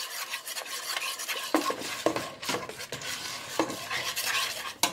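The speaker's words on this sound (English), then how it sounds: "stir the peanut butter, and it's going to start immediately melting" Peanut butter being stirred into melting chocolate, with repeated close scraping and sticky stirring strokes in an uneven rhythm, moderately loud and free of speech.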